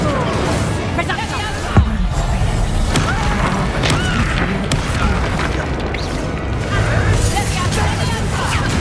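Spell casts in the Hogwarts Legacy video game, Incendio fire bursts and Levioso levitation, crackle and boom as loud layered effects with thuds and whooshes over busy game noise, while a player shouts spell names throughout.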